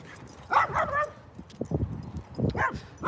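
A dog nearby gives a few short yips and barks in irregular bursts, mixed with whimpering sounds, fairly close and moderately loud outdoors.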